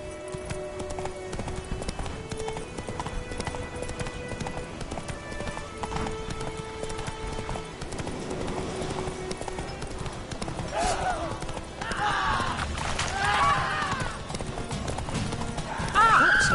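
Hooves of the horse Roach clip-clop at a steady gallop through The Witcher III, with a whinny and faint speech over the game's ambient backdrop.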